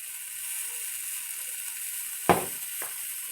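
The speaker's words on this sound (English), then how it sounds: "I got my eggs in the skillet." Eggs frying in a skillet, seasoned with onion powder, give a faint, steady sizzle throughout, broken by one sharp metallic click and a softer second tap near the end.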